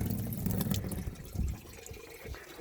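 Water runs steadily from a newly installed outdoor sink tap, a close, continuous splashing flow with some uneven gurgling, heard alone without voices.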